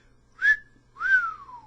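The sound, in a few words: a person whistling, in an audiobook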